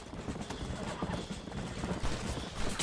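Horse hooves galloping in the video game Red Dead Redemption, a rapid irregular clip-clop close up, mixed with a low rumble and a voice speaking over it.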